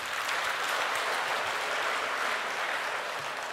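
Church congregation applauds during a sermon, a steady even wash of many hands clapping, moderately distant and consistent from start to finish.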